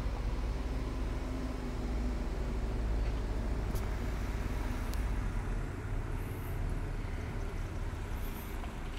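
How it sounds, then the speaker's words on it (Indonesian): A steady low rumble of heavy mining trucks on a road in Indonesia, continuous and fairly distant, with a couple of faint higher clicks. "Banyak mobil tambang sih kedengeran ya teman-teman."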